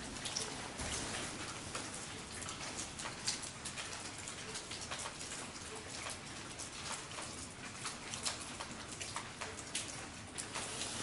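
Heavy downpour pattering steadily on surfaces outdoors during a night exploration, a dense continuous hiss of raindrops with scattered louder drips close by; a bird coos faintly in the background.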